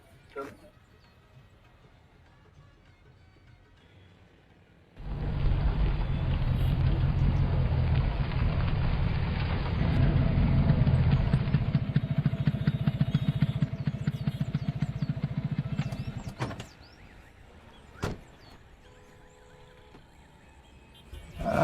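A motorbike ride, its engine loud and steady for about eleven seconds before cutting out, with rain or road noise mixed in.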